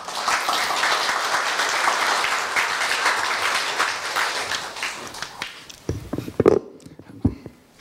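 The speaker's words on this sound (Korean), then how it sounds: "이재몽 차장님을 큰 박수로 맞이하여 주십시오" An audience at a Korea University staff retirement ceremony gives sustained applause to welcome a retiring staff member, a dense, even wash of clapping that breaks into a few scattered final claps and fades near the end.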